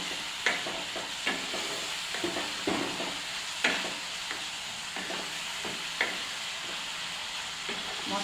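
Spice masala with chicken fries in a pan with a constant soft sizzle, while a spoon scrapes and stirs at irregular intervals, close up and with no talking.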